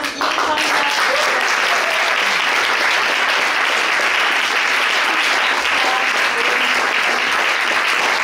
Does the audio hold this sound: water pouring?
no